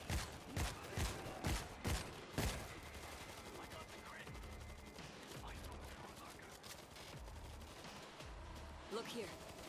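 A turret gun in WWZ: Aftermath fires in the Tokyo Extinction stage, first a run of heavy, evenly spaced shots close up, then rapid continuous fire in a dense battle din.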